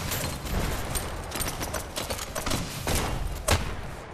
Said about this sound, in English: Oh, it's a rocket launcher.